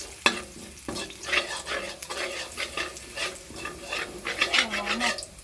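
Close, steady sizzling of chili and spices frying in hot oil, with scraping stir strokes throughout and no voices.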